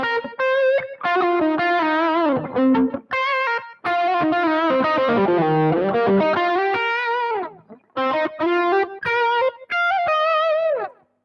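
A Gibson Firebird I electric guitar plays through gain on the bridge pickup with the tone rolled down, giving a loud, warm, sustained lead line of bent and held notes broken by short pauses.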